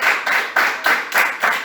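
Congregation clapping in rhythm during a church service, about six strong, evenly spaced bursts of many hands close by, with no talk.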